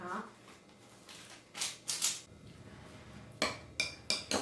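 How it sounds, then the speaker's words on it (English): Utensils clink and scrape against a bowl while mixing yellowtail, avocado and seaweed topping for a sushi bowl, several sharp clatters spaced irregularly over quiet background. "And then just basically mix this all together."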